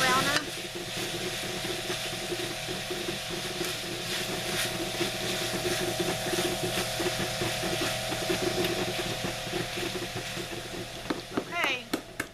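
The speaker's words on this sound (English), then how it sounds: "I'm going to get the sausage all browned up. And I'm using maybe a medium heat." Sausage browns in a pan over medium heat, a steady close sizzle with scraping, stirring sounds running all the way through.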